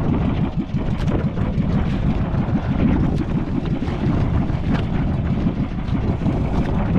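A continuous low rumble of small fishing boat motors over open water, mixed with steady wind buffeting, loud and unbroken throughout.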